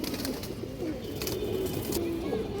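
A Tota breed pigeon coos softly and repeatedly at close range, low throaty calls over a busy background of other birds and faint human voices.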